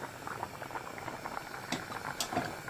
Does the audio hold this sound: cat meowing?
no